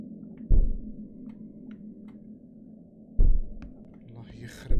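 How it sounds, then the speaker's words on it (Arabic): Slow, heavy heartbeat thuds in the horror video game Is Simon There, three deep widely spaced pulses over a low ambient hum. "هذا صوت دقات قلبي."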